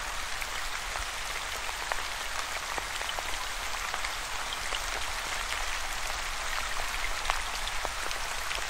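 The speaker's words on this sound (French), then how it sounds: "Laissez votre pluie tomber où vous le souhaitez." Steady rain patters densely on a surface, with scattered distinct drops tapping through the constant hiss, close and even throughout.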